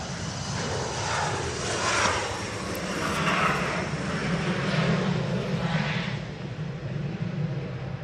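A Loganair airplane at Manchester Airport gives off a steady, moderately distant engine drone with a low rumble and gentle swells in loudness over about eight seconds.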